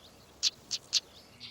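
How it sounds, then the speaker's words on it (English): Stonechat calls: three sharp, hard clicks like two pebbles struck together, evenly spaced and close, with a fainter fourth at the end. "stone chat has the sound of a stone being hit together"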